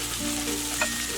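Fried chicken pieces and chopped coriander stirred in a hot frying pan while making the filling for Irani Pola, a Malabar snack; a steady soft sizzle runs throughout with a brief scrape of the spoon partway through, no voices.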